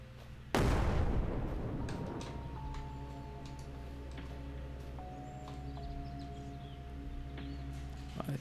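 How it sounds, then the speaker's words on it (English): A grenade blast in the survival shooter SurrounDead goes off close and loud with a sharp broadband boom, then rumbles and rings away over several seconds into low steady game ambience. "Might throw a grenade, see if I can bring him."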